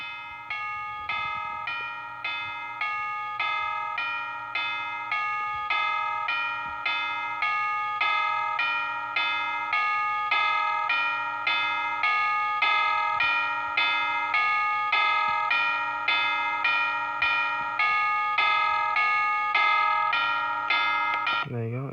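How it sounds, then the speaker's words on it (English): A Timex alarm clock plays its chime setting: a steady run of soft, evenly spaced bell-like tones ringing on with overlapping sustained pitches, fairly quiet and close, with no speech over it. "Now you can gently turn it to chimes."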